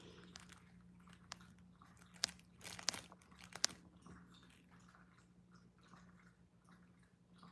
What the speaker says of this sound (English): y'all hear Peppa drinking her water